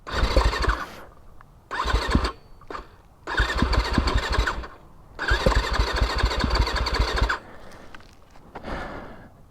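A 2021 Yamaha YZ250FX dirt bike cranks and catches in bursts, four loud close engine sputters, each dying out after about a second before the next attempt, with short gaps of quiet between.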